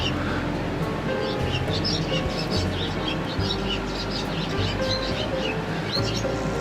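A small bird chirps and tweets on its own behind an indoor reading, brief high calls repeating irregularly over a steady low hum and background noise.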